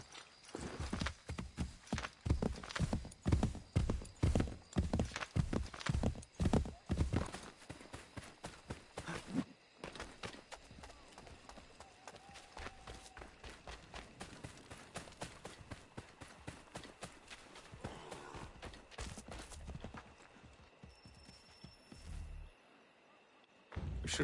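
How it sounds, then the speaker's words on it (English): Horse hooves clip-clop in Assassin's Creed 3, a fast run of sharp repeated hoofbeats that slows into sparser steps, with faint game ambience and a brief whinny-like tone. "There's a horse here the whole time."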